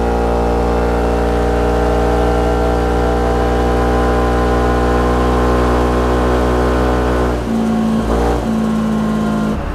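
Yamaha Filano scooter engine running steadily at high revs on a test run, a loud sustained drone with strong harmonics that drops and changes pitch briefly near the end before settling again.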